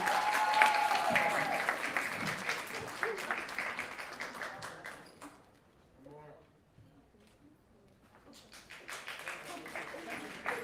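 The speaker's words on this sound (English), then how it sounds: "let's give them one more round of applause" Audience clapping for honor roll students at a school luncheon, starting full and gradually fading to a near-silent gap with faint voices before scattered clapping picks up again.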